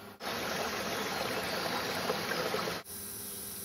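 HHO cell bubbling in distilled water, a steady faint fizzing hiss of gas bubbles, continuous and close, with no voices.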